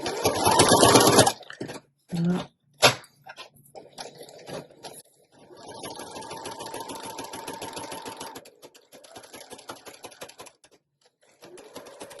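A sewing machine stitches lace pockets onto junk journal pages in loud rapid bursts, stopping and starting with clicks and handling noises between, then a longer steady run of stitching, close and without talk.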